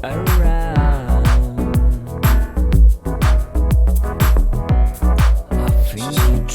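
Synth chord pads play over a pounding electronic beat with punchy kicks, loud and upfront, changing chords every bar or so.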